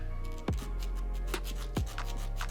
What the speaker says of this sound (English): You're going to want to chamfer this front side right here so that we don't have a sharp edge